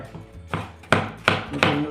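A knife chops watermelon rind on a cutting board in three sharp, close strokes after a softer first cut, with no talking.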